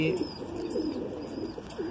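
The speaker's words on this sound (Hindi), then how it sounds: "परेश पाटिल जी का कबूतर है" A pigeon coos in a low, repeated throaty rhythm, close and fairly clear, with a thin steady hiss behind it.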